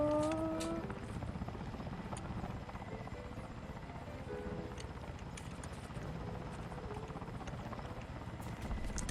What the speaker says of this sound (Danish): Så kan jeg flyve helikopter.